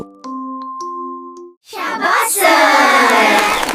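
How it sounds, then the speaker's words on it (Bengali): A few bright chime notes ring out, then a sudden loud burst of clapping follows from a group of animated cartoon birds cheering a duck in a children's story, holding dense and bright to the end. "এই দেখে সব পড়ুয়া পাখি তালি দিল"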